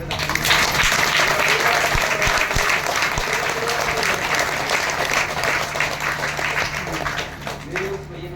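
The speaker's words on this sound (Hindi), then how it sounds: "एक बार जोरदार ताली पर" Loud, dense applause from a congregation at a Christian satsang gathering, sustained for several seconds before easing off near the end.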